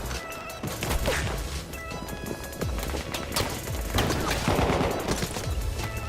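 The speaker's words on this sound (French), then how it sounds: "Ça m'a l'air d'être une mitraillette. Ouais, donc c'est une mitraillette" Submachine gun fire in the video game Battlefield 1, bursts of rapid shots mixed into a dense, chaotic battle soundscape with explosions and other gunfire throughout.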